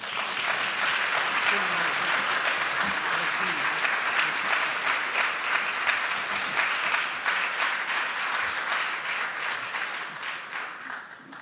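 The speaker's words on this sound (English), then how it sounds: "let's give them a round of applause." Sustained audience applause filling a hall at a community pledge anniversary celebration, dense steady clapping from many hands that holds strong throughout and eases slightly at the end.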